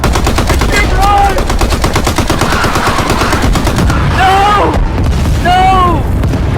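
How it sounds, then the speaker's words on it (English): Rapid, sustained gunfire crackles in a video game, loud and continuous, while voices shout and cry out over the shots. "They keep shooting me!"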